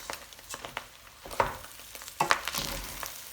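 Rice frying in hot oil while being stirred, soft sizzling under intermittent scraping strokes of a spoon against the pot, close and fairly quiet.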